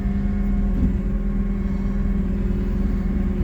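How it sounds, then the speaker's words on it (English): Steady, low idling rumble of a skid steer loader engine with a faint tonal hum, constant and close, with no voices. "we got skid steer in here"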